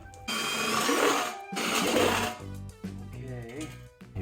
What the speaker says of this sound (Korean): 이쪽을 구멍을 한번 뚫어 보겠습니다